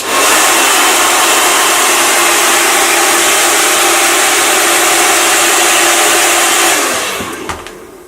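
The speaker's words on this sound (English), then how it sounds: "Take your hairdryer and blow down." A hair dryer blows loudly and steadily for several seconds, then winds down and cuts off near the end.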